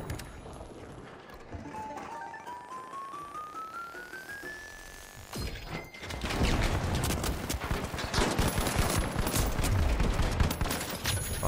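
Rapid bursts of gunfire fill a firefight against an AK-wielding enemy in the video game THE FINALS, loud and sustained after a quieter, tonal stretch, with no talking.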